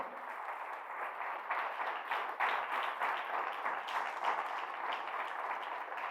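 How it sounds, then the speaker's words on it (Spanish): A church congregation applauds during a sermon, a dense, fairly faint wash of many hands clapping continuously with slight swells in intensity. "Denle fuerte el aplauso"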